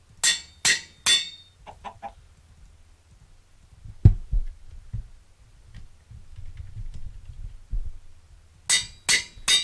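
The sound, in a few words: chickens clucking in the video game Minecraft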